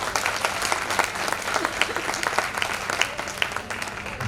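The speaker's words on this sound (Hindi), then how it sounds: "एक बार इनके लिए भी ताली बजाइए।" Audience applause at a Hindu religious gathering honouring a municipal council head, dense steady clapping filling the whole stretch at even loudness with no voices over it.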